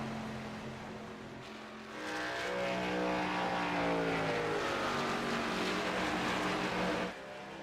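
Race cars roar past at a short oval race at Kansas, engines swelling loud and close from about two seconds in, pitch sweeping as several cars battle together, then dropping back to a lower rumble near the end.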